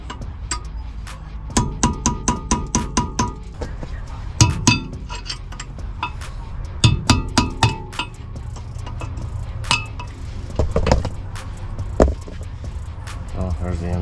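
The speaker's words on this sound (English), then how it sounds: "I'm gonna use a chisel." Hammer blows drive a chisel to pry off a wheel's center dust cap during disc brake repairs, making bursts of sharp metallic clinks and rapid taps, loud and close, with a few pauses between runs.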